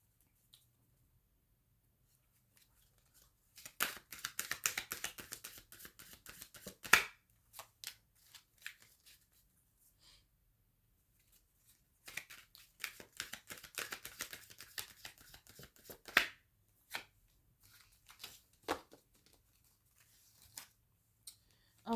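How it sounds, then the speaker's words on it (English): Tarot cards being shuffled and drawn, two bursts of rapid riffling and flicking separated by quieter stretches of occasional card taps and slides, close and alone without talk. "I'm going to pull a couple of cards really quick just to sum this up"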